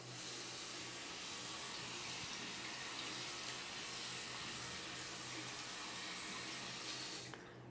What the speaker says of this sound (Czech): Tak si nastavíme kohoutek na teplou vodu a zapneme.